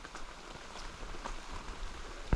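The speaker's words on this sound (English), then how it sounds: "Well, it's raining, and you get this a lot in rainy season, the rain." Rain falls in the Guatemalan jungle during rainy season near Semuc Champey, a soft steady patter of drops on surfaces with a sharp thud at the end.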